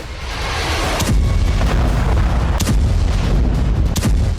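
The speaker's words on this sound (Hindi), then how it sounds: "ये 16 जून की तस्वीरें हैं, जब तेहरान के बाहरी इलाके में किसी गुप्त ठिकाने पर बम गिराया" Bombs strike a site on the outskirts of Tehran, producing loud, deep rumbling blasts with several sharp booming impacts spread across a continuous roar of heavy explosive noise.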